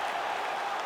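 Arena crowd at the finish of a fight, a brief burst of steady cheering and applause throughout the whole moment.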